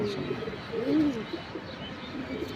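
A handsome pigeon coos in a few low, wavering throaty phrases close by, the loudest swell arriving around the middle, over a faint background hum.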